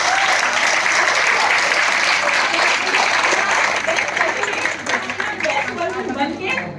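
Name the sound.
audience applause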